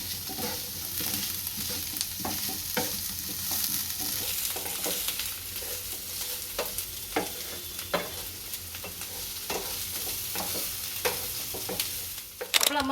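Chillies and onions fry in a pan with a steady, close sizzle, broken by scraping stirs and small crackles for the whole stretch, with no one talking.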